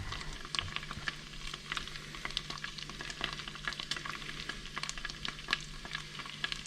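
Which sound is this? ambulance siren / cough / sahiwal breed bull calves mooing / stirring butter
stirring butter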